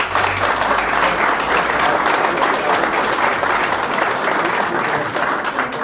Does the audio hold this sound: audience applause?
yes